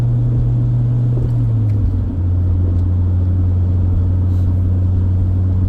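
A stock first-generation Honda CR-V (RD1) fitted with a Yonaka catback exhaust drones steadily from inside the cabin, a deep continuous rumble that dips briefly during a gear change and then settles at a lower engine note.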